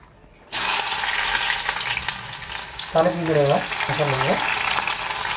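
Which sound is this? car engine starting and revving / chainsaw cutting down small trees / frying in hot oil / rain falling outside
frying in hot oil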